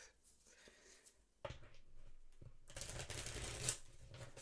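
A deck of tarot cards is shuffled close by, quiet at first, then a sharp riffle and a denser, louder burst of papery flicking and sliding.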